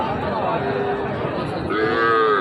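Cattle low at a busy outdoor cattle market, a couple of drawn-out moos rising over steady crowd chatter and background noise.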